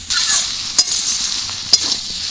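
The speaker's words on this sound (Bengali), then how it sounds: "চিংড়ি মাছ, আর একটু কষিয়ে একদম অল্প করেই একটু জল দেব।" Prawns sauté and sizzle in a pan with ground cumin for a Bengali pumpkin dish, giving a loud, steady hiss broken by two sharp clinks of the spatula against the pan.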